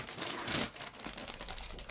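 A plastic bag crinkles and rustles up close as it is handled, soft and continuous.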